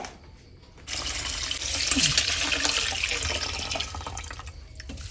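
Running water from a tap splashes steadily and close by as food is rinsed in a home kitchen, starting abruptly and continuing alone without talk.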